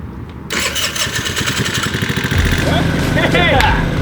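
A scooter's small engine sputters into life after a brief quiet moment, then keeps running with a steady, fairly loud idle.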